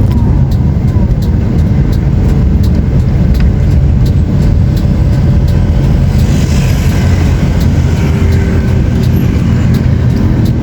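Bus engine drone and broadband road rumble, steady and loud throughout, from a bus travelling in a six-bus convoy near Katipunan and Ateneo de Manila University in Luzon, Philippines.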